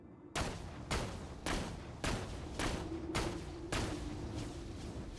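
Eight regularly spaced single gunshots from a Borderlands weapon fitted with a Vladoff stock, each a sharp, loud broadband crack with a short decay, spaced about half a second apart, no talking.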